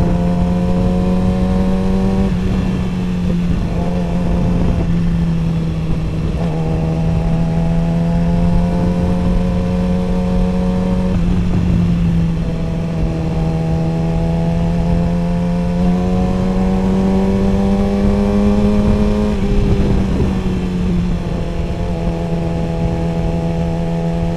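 A Yamaha R6 motorcycle engine runs steadily for a long stretch, a close, loud drone that rises and falls in repeated surges as the revs climb, drop back and climb again.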